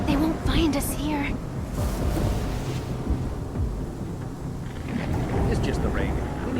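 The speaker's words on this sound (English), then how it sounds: "It's just the rain." Rain and rumbling thunder in a video game: a steady, loud wash of rainfall with deep thunder rolling throughout, while voices speak over the storm.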